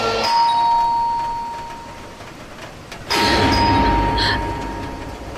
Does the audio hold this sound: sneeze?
no